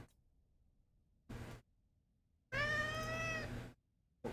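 A cat meows close by, two calls: a short one followed by a longer, drawn-out tonal meow, with quiet room background between them.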